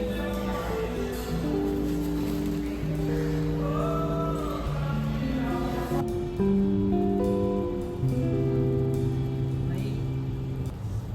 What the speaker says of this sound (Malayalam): ഈ സമയത്തൊക്കെ ഭയങ്കര മഴയായിരുന്നു കേട്ടോ